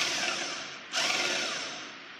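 A 1/4 impact driver fitted with a 3/4 socket loosens the closing-wheel tension spring on a John Deere 7000 planter: a steady, close whirring buzz that dips for a moment near the middle, with no talking.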